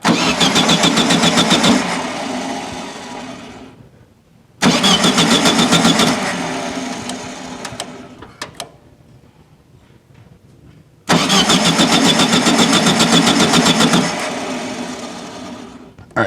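A 1974 VW Super Beetle engine with a new Pertronix ignition cranks in three long bursts of rhythmic starter churning, each several seconds, with quiet gaps between, close by, never catching.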